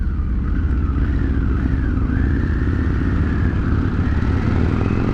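A 2023 Harley-Davidson Pan America Special motorcycle is ridden at steady speed, its engine droning continuously with a rising and falling whine under heavy wind rush, loud and close, with no talking.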